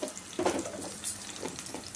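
Onions, green chilies and curry leaves hit hot oil for an okra egg curry, giving soft, fairly faint sizzling bursts with a few stirring scrapes.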